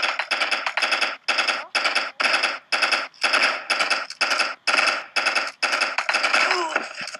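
AK rifle firing in the Stick War video game: rapid bursts of loud, close gunfire, roughly a dozen clipped volleys in a steady stuttering rhythm with brief gaps, no talk over them.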